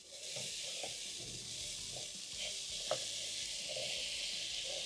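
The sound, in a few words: stirring carrots and green peas in a pan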